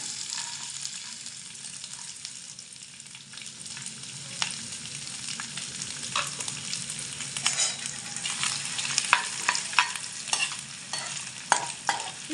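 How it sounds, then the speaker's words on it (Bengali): Grated coconut fries in hot oil for vegetable chops, a soft continuous sizzle with scraping stirs and small crackles that grow busier and louder toward the end, with no talking. "মা এবার তেলের মধ্যে নারকেলগুলোকে একে একে দিয়ে দেবে"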